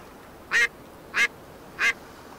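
Three evenly spaced duck-call quacks from the hunting game Way of the Hunter, each short and bright, sounding close and clear over a quiet background.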